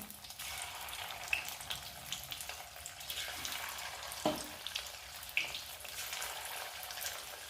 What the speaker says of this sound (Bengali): আর দেখো বাদ বাকিগুলো এইভাবে দিয়ে ভেজে নিই